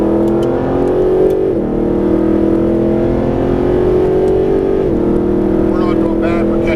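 A Mercedes SLS AMG accelerates hard on a coned track while chasing a Ferrari. The loud engine note rises steadily, drops at two upshifts and climbs again, heard close from inside the car.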